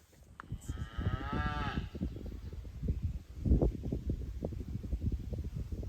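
Cattle low on a hillside pasture along the Appalachian Trail in Virginia. There is one long, drawn-out moo early on, over rustling and wind noise close to the microphone.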